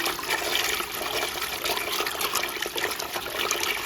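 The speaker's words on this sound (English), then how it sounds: "it is the water pumping of this DC50F-24150S" A SHYSKY DC50F-24150S micro water pressure pump runs, giving a continuous rushing, gurgling water noise that holds steady throughout, moderately loud with no talk.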